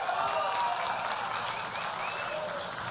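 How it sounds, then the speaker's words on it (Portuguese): Crowd applause at a ceremony marking restarted operations at the Fafen Bahia fertilizer plant, a sustained wash of clapping with some cheering voices mixed in, steady and fairly loud. "Pode aplaudir mais forte,"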